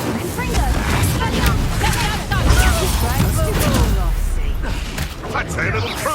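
Confringo fire-spell blasts in the video game Hogwarts Legacy sound as loud booms and crackling bursts amid continuous battle noise, with character voices talking over the fighting.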